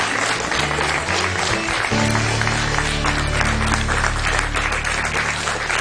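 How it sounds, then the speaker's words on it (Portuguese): Studio audience on the Portuguese afternoon talk show "A Tarde é Sua" applauding a guest, a loud dense wash of clapping that runs steadily throughout, with music playing underneath. "Um grande aplauso."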